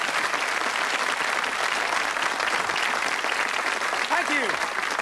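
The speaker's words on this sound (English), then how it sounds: "Give him a big round of applause." Studio audience applause at a 1990 casino-themed game show, a dense, steady wash of clapping that fills the room, loud and continuous with cheers rising briefly near the end.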